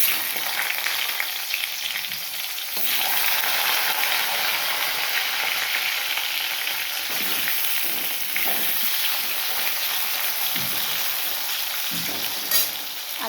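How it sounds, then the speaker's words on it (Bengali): A cut, washed small potato fries in hot oil, giving a dense, continuous sizzle with crackling bursts and occasional stirring clicks, close up and with no talking. "এবার ভেজে নেব।"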